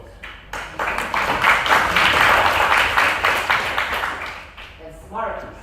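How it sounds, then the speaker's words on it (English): An audience at an integration bee finals event in Austria applauds, clapping swelling to a full, steady round and then fading, with a voice briefly heard as it dies down. "So round of applause."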